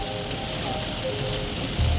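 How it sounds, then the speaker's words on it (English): Steady rain falls in Mart, Texas, a constant broadband patter with no voices, and a low rumble swells in during the last fraction of a second. "The nasty clouds had rolled in and it was raining again."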